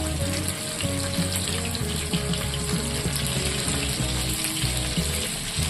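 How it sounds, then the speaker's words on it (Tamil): Fish pieces, koduva and big mathi coated in masala, sizzle steadily in hot oil while frying on the second side, a dense continuous crackle and hiss close up with no talking. "ரெண்டாவது பக்கமும் நல்லா பொரிய விட்டுருவோம்"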